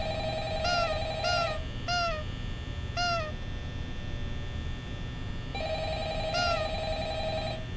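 A telephone rings in the Roblox game Five Nights at Freddy's, a repeated electronic warble sounding in short bursts with gaps, then a longer ring near the end, steady and clear over a faint background hum.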